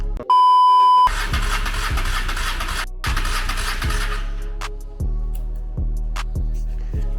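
Cranking a 1995 Honda Shadow VLX600 motorcycle with the choke on and ignition switched on, preceded by a steady electronic beep. Several loud bursts of starter churning follow, each engine turning over rhythmically and then stopping without catching.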